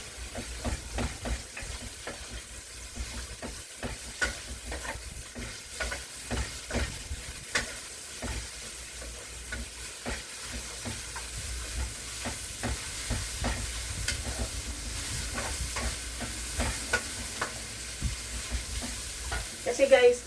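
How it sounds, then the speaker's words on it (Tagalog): Chicken feet and onions browning in a pan, giving a continuous close sizzle with frequent scraping and stirring clicks throughout, and a louder clatter at the very end. "Ipa-brown po muna natin yung chicken, yung sibuyas."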